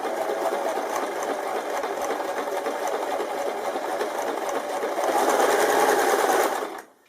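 A sewing machine stitches fabric fed through a bias tape maker, humming steadily and close for several seconds, rising slightly near the end before stopping abruptly.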